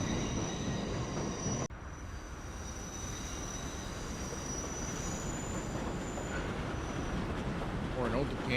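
A red Redbird subway train in the game World of Subways 4 rolls along with a constant loud rumble and a thin, high wheel squeal, briefly dipping for a moment early on before continuing steadily.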